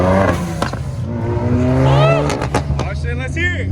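A turbocharged Mazda 13B rotary engine car revs hard at a large outdoor car meet, with a loud rising engine note and tire noise. People talk over it nearby.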